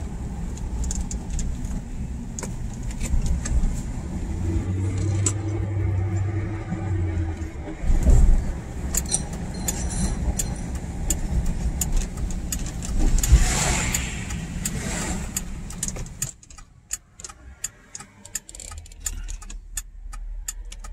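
Steady road traffic with cars passing close by, a continuous rumble of engines and tyres that swells and fades for most of the stretch before dropping away near the end.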